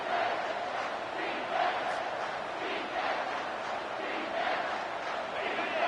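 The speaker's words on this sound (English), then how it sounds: "Third down, and this crowd is tearing the lid off this place." A stadium crowd in the College Football 25 video game roars on third down, a dense, sustained wall of cheering and chanting that stays loud and steady throughout.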